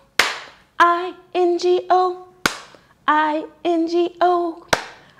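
Single sharp hand claps in the children's song Bingo stand in for a letter, three claps spaced about two seconds apart, each followed by children's voices singing the remaining letters.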